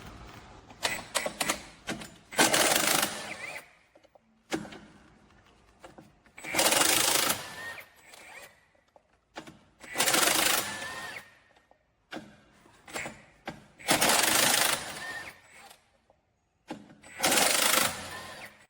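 A Milwaukee M18 FUEL one-inch D-handle cordless impact wrench in its strongest mode 4 loosens a wheel nut, firing in five loud, rattling hammering bursts of about one to two seconds each, separated by quieter handling sounds.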